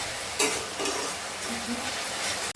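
Spice masala stir-fried in a pan, a continuous dense sizzle with a few sharper scraping strokes of the spoon, close and steady, no voices.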